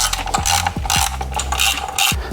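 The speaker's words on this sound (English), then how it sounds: "next we're going to install the VCT solenoid bracket bolts, and these are 7mm" Ratchet tightening 7 mm VCT solenoid bracket bolts on a Ford Falcon Barra engine, rapid bursts of metallic clicking in short repeated strokes, close and without talk.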